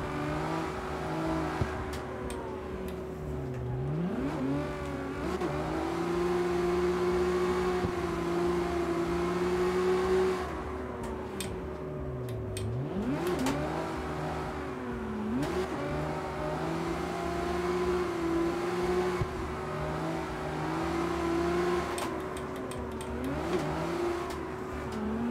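Engine of a drift-build car in the CarX Street racing game, revving and bouncing off the limiter in repeated surges and dips as the throttle is feathered through slides, continuous and fairly steady in level.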